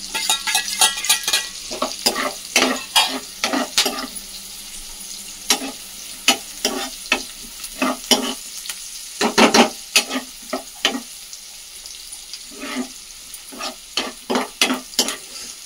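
Onions and green chilies fry in a pan with a soft continuous sizzle, punctuated by repeated scraping stirs of a spatula at an uneven rhythm, close and fairly loud.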